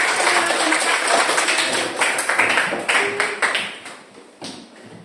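A school class claps hands together in a burst of dense, lively applause that gradually thins out and fades.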